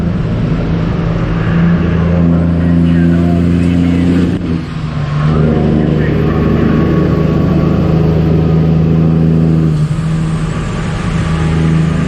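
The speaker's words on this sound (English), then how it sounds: "Oh, here's another stream of cars." Steady loud road noise from inside a truck cab amid heavy rush-hour traffic, a continuous engine drone with cars streaming past and swelling and fading passes around four and ten seconds.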